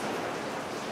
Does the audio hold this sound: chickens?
no